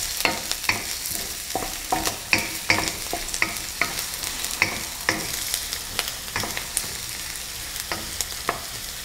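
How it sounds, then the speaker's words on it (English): Onion sizzles in a hot pan for pork fried rice while a utensil stirs it, making repeated sharp scraping strokes in a steady rhythm over a continuous frying hiss. No one speaks. "Next, yung ating onion. So, gigisa lang natin ito."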